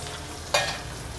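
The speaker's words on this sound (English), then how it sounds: "Saute until fragrant." Pork belly sautéing in a pan with dried mushrooms, a constant close sizzle broken by one sharp scrape or toss of the spatula partway through, no talking.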